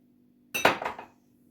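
A quick burst of clinks and scrapes as a utensil mixes carrot cake batter in a bowl, brief and fairly close, followed by silence.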